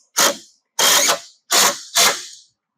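Four sharp ratcheting bursts, each about half a second long, as 3/4-inch thread-cutting bolts with bowl washers are tightened to secure a full skid plate on a 2026 Can-Am Maverick R; close and loud, separated by brief pauses.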